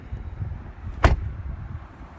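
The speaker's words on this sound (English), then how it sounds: "I'll give you the sound of the door closing, which always impresses me with this car." A single solid thud of a 2022 Volvo V90 car door shutting, loud and close, standing alone against a quiet background.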